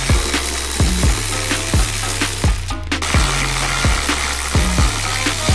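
A ratcheting tool clicks in quick repeated bursts, loud and close, working the seat rail bolts loose on a Miata.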